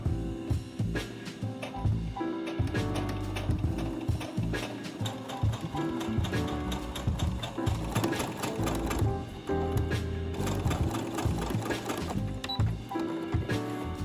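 A sewing machine stitches calico for a mock-up dress in rapid, steady bursts with brief pauses between runs, close and clear without any talk.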